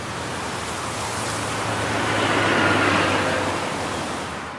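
Distant highway traffic forms a broad, steady rushing roar that swells gently in the middle and fades slightly, with a low hum underneath and no voices.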